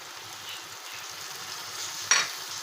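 Tomatoes are stirred into softened onions frying in a pan for Pakistani-style shakshuka, giving a steady, fairly faint sizzle with a brief clink of a utensil near the end.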